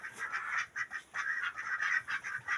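Many birds in a crowded coop on a rural Nepali homestead clucking and honking together, a dense, continuous chorus of overlapping calls heard close and moderately loud with no talk.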